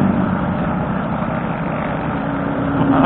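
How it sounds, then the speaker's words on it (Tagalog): A motorcycle engine strains hard to climb a steep uphill road on the Marilaque highway, a loud, steady droning roar with wind rush, swelling slightly toward the end. "Ayaw na umahon ng motor ko."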